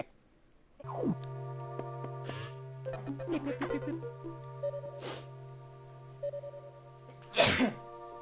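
A single sharp sneeze bursts out near the end, close and loud, over a steady hum of background Metroid Fusion game music and a few soft clicks.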